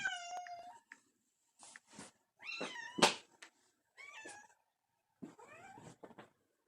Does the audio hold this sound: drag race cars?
no